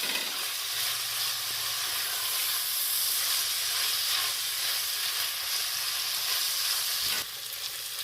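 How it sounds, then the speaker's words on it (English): Onions sauté in a pan for a chicken tinga, keeping up a steady, close sizzle and hiss that runs unbroken for about seven seconds before easing slightly near the end, with no voices. "I'm going to go ahead and saute my onions until they are slightly translucent"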